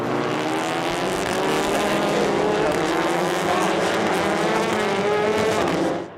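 TCR touring race cars racing at the Red Bull Ring, engines screaming at high revs with rising and falling pitch as several cars charge down the straight, loud and continuous before fading at the end.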